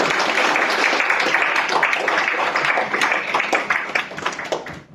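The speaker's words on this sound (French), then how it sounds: "je vous demanderai d'applaudir nos intervenants qui sont venus aujourd'hui" An audience applauds the speakers at the "Ensemble pour la rue" conference, with dense, sustained clapping from many hands that stays loud and steady before tapering slightly at the end.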